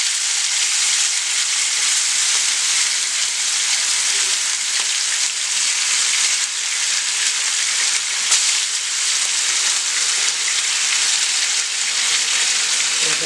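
Half-cooked chicken pieces frying in oil for Arabian mandhi, a dense continuous sizzle and crackle that stays loud and close throughout with no talking.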